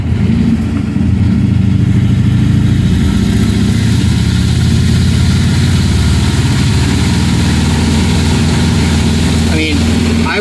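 A 1953 Ford Customline flathead engine, freshly fitted with a new oil pump and rear main seal, runs steadily up close with a low, rumbling idle that stays loud and constant, while someone talks over it.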